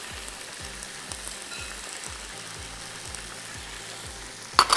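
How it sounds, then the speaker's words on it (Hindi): Butter sizzles steadily in a pan of sautéed onion and garlic for braised chicken, a soft continuous crackle with a faint rhythmic stirring or scraping pulse underneath and a brief louder clatter at the end. "इसमें आप मक्खन डालेंगे।"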